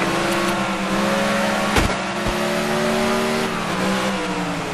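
NASCAR 2011 video game at Infineon Raceway: several race cars drone continuously at high revs, their engine tones rising and shifting as they run close together, with a brief sharp whoosh of a car passing nearby.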